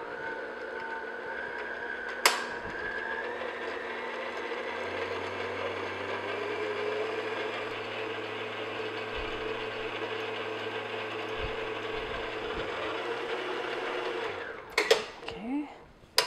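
An electric mixer beats sugar slowly into gingerbread dough, giving a steady motorised whir and faint mechanical rattle that runs on evenly, then ends with a few clatters.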